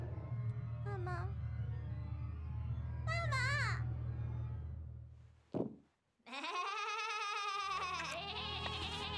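Goats bleating in an animated short, several wavering cries close by over a low hum, with a brief sharp hit and a gap of silence before a long, loud bleat.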